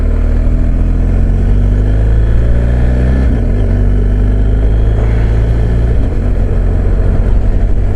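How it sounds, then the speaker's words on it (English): BMW GS motorcycle engine revving loudly and steadily up close, with the pitch dropping abruptly at each quick-shifter gear change, about two shifts in eight seconds, no talking. "Quick shifter on GS is like that. It does boom."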